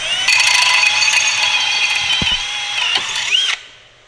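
A power drill whines steadily at close range for about three seconds while drilling a metal bracket, with a brief grinding catch near the end before cutting off.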